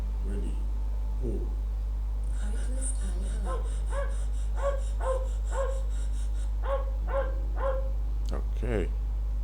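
A dog in a PowerPoint animation of a race between a man and his dog gives a run of short, evenly spaced yips and barks, loud and close over a steady background hum.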